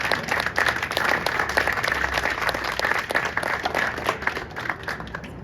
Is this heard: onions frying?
no